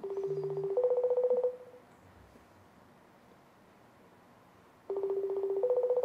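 A mobile phone places a call with a run of rapid dialing tones, then a pause of near silence before the tone pattern starts again, clear and close.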